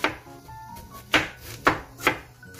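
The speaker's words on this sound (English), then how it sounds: "Cut the potato" A knife chops through potato on a cutting board, several sharp evenly spaced strikes close up, each a crisp thud-and-snap with quiet gaps between, no voices.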